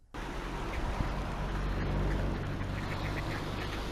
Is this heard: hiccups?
no